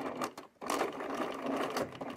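A sewing machine zigzag-stitching along the edges of a small pocket, a close, continuous mechanical whirr with a brief pause near the start and then steady running.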